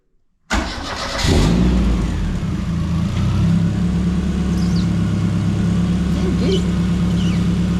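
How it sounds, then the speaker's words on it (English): A turbocharged Zetec engine in a mk2 Ford Fiesta cranks and fires after a moment of silence, then settles into a loud, steady, throbbing idle close by. "It's got a proper baby turbo on it, so it should make booster idle."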